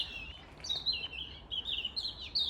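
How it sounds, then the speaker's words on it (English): High, bright bird chirps and tweets repeat in quick bursts over a soft background hiss, fairly close and continuous throughout. "listen to how pretty the birds are."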